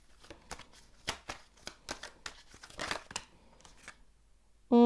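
Tarot cards are shuffled by hand in a run of quick, crisp riffling bursts, close and fairly loud, with a short faint pause near the end before a brief tonal sound cuts in.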